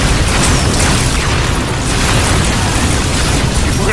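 Low-yield torpedo explosions from a sci-fi action film fill the track with a dense, continuous roar of rumbling blasts, loud and unbroken, with no talk over it.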